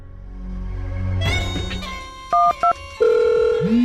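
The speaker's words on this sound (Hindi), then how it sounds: "पुष्पा का फोन?" A mobile phone rings in a home, with rising electronic tones and short repeated beeps, and a steady ringtone then sounding loud and close.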